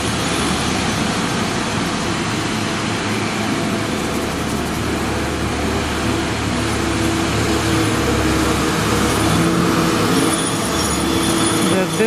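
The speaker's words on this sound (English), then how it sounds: "They're cleaning the piazza, which is the noise you're hearing." Steady broadband mechanical roar of a street cleaning machine fills a Roman piazza, constant and close, with a low rumble and hiss throughout.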